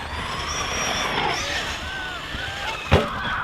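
A Tekno MT410 RC truck running a Hobbywing Max8 combo on 3S drives with a continuous high electric whine and shifting motor pitch, capped by a short thump near the end.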